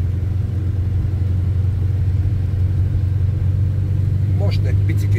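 A car climbing a wet, cold mountain road through hairpin bends over the Bucsin pass, its engine a steady low droning hum inside the cabin, with someone talking over it near the end.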